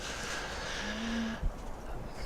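Cattle in a messy cow pen in the video game Farming Simulator 2017 give a single drawn-out moo, heard clearly over a constant steady background hiss.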